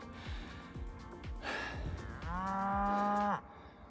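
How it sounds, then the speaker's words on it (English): Cows on a hillside along the Devon coast-to-coast route give a few low moos, one long drawn-out bellow near the end, fairly close, with a hiker's breathing and footsteps around them. "bunch of cows"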